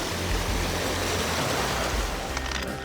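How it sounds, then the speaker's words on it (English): Waterfall and mountain stream in Glacier National Park, a steady broadband rush of falling water, loud and continuous without pause. "And there's the waterfall right there."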